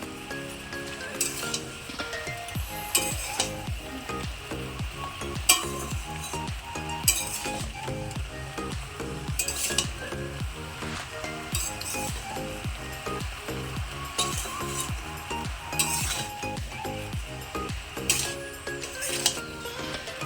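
A large batch of salted mixed vegetables is stirred in a pan, with a soft sizzle under rhythmic scraping and clinking of the spoon against the metal, continuing steadily and close by.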